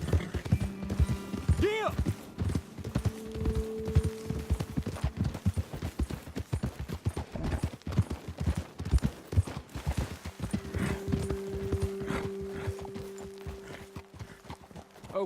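Horses trotting in Red Dead Redemption 2, hooves clip-clopping in a steady rhythm close by, with game characters talking over them and a brief whinny.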